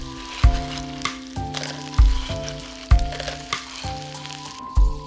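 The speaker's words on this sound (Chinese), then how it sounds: "放入葱节、姜片、蒜片煸香， 下蛤蜊，" Scallion pieces, ginger and garlic slices stir-fried in hot oil in a wok before clams go in, with loud sizzling, regular spatula strikes about once a second, and a sustained tonal hum underneath.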